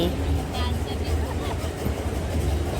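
A steady low rumble fills the interior of a moving train bound for Mumbai. The travel noise holds at an even level throughout, with indistinct voices underneath it.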